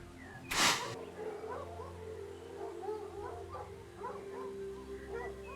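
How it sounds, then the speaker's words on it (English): Moor dogs give a series of soft, high whimpers and short yips at moderate distance, with a brief louder burst near the start over a steady low background hum. "those moor dogs seem to like you"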